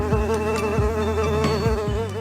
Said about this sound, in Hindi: स्टेज पर 2-3 मक्खियां भी चली आईं